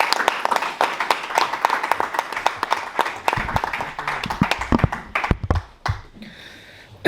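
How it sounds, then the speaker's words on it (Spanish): Audience applause at an evening talk on African thought, dense rapid clapping from many hands that thins out and scatters into a few last claps before stopping. "Un aplauso."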